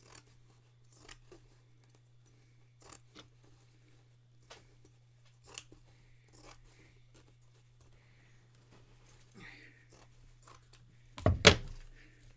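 Scissors cut fabric in a quiet room, giving a series of faint, separated snips and then a louder cluster of cuts near the end, with a steady low hum underneath.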